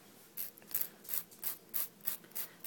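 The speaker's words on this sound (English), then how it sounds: "you'll take your file and go straight down" A nail file scraping straight down to take excess nail wrap off a fingernail edge, giving about seven soft, rhythmic rasping strokes, quiet and close, with no voices.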